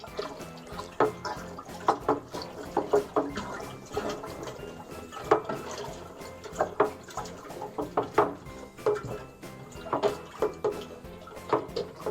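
Water runs and splashes while a Tower Garden part is rinsed, a faint uneven patter of drips and gushes with intermittent clatter, close and continuous.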